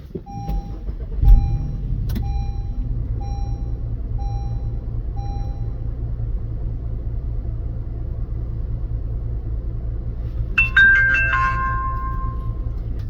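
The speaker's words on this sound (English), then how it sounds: "let's go ahead and start up the vehicle" A car engine cranks and catches, then settles into a steady low idle rumble. Repeated short chime beeps sound over it, and a cluster of higher electronic tones comes near the end.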